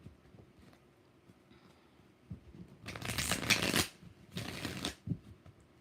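Tarot cards are shuffled in two quick bursts of crisp riffling and flapping, close and fairly loud, separated by a short pause, with faint handling sounds before and after.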